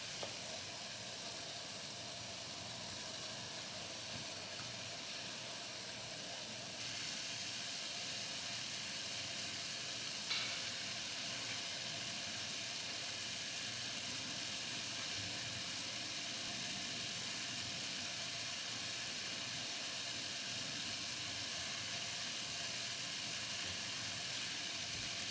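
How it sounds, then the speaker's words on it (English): Spaghetti boiling in chicken stock in a covered pot, a steady hiss and bubbling simmer that holds evenly throughout, close and moderately loud with no talking. "We added chicken stock and the spaghetti is boiling."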